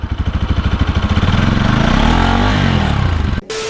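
A Bajaj Pulsar RS200 motorcycle engine idles with a fast, even, pulsing chug, loud and close, then cuts off abruptly near the end, leaving a faint tone.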